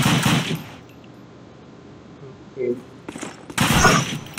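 Bursts of gunfire in a shooting video game, a loud burst at the start and more rapid bursts near the end with a quieter stretch between, while a player talks.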